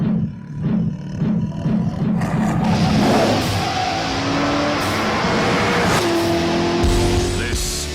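A Corvette ZR1 with a supercharged 6.2-litre engine roars and revs up, a deep loud rumble rising in pitch with gear changes as the car accelerates close by.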